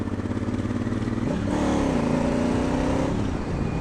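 A Honda Africa Twin with throttle-by-wire being ridden, its engine droning steadily and loud throughout, the pitch shifting as it climbs through the revs midway, with no talk over it.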